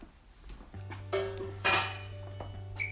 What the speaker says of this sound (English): flour up your pans and set those aside